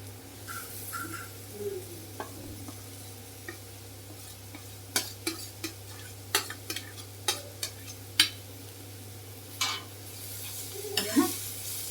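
Grated salted cucumber tipped into a pan and fried, a faint low sizzle under scattered spoon taps and scrapes that grow busier toward the end, close but quiet, with a steady low hum behind and no speech.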